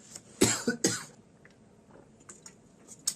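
A few close coughs in quick succession, followed by softer throat sounds and small mouth noises.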